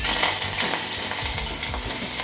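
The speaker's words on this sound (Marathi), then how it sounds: "हिरवी मिरची आणि आला जी पेस्ट केलेली आपण ते थोडंसं घातलं आहे यात आता हे बघा हे हे ना खूप चांगलं परतू द्यायचं आहे" Green chilli and ginger paste sautés in ghee with a close, continuous sizzle and sputter, stirred as it cooks, without any talking.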